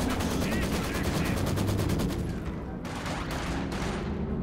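Gunfire in the WWII strategy game Company of Heroes 2, a rapid machine-gun burst of evenly spaced shots followed by a few heavier isolated reports, loud and close, with a commentator's voice underneath.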